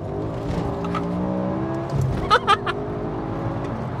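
A BMW E60 M5 engine pulls hard on a UK road, a continuous revving drone heard from inside the car, with someone talking and laughing over it and a few short sharp sounds midway.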